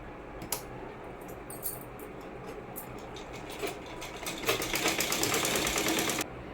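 A sewing machine stitching latkans onto a sari runs quietly in short clicking bursts, then settles into a steadier, louder stretch of rapid needle clatter before stopping abruptly.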